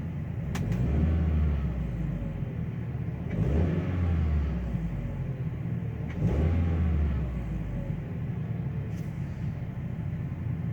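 A 1998 VW Beetle engine idles close by with a steady low rumble, rising in three slow revs spaced a few seconds apart, each climbing and falling back to idle.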